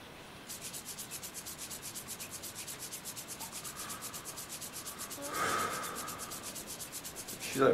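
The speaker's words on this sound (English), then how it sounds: "She's like rubbing the stuff off so that she can get out." A cartoon character scrubbing rust off a surface: a fast, evenly pulsing rubbing rasp that keeps going for several seconds and swells briefly near the end, heard alone without talk.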